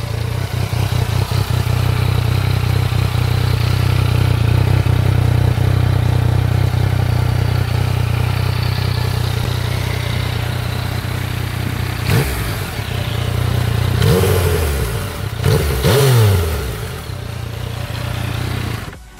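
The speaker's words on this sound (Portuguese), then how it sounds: "Eu vou dar uma ligada aqui nela para vocês verem. Sente o ronco, galera." A white 2015 Yamaha MT-09 motorcycle engine idling loudly and steadily, then blipped several times in sharp revs that rise and fall near the end, with no voices over it.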